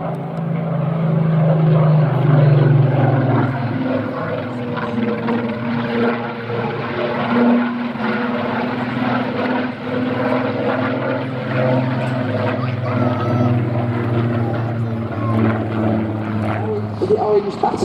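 A Spitfire propeller aircraft drones steadily overhead during an air festival flying display, engine note rising and falling slightly as it passes, with a voice talking over it.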